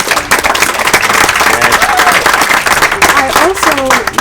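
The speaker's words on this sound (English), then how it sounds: "we should give a round of applause" Audience applause at a Black History Month celebration in a school, steady dense clapping throughout with a few voices cheering and talking over it.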